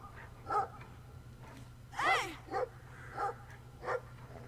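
In Brothers: A Tale of Two Sons, a dog barks five or six times at uneven intervals, close and clear, with one louder yelping bark in the middle and a soft background hum.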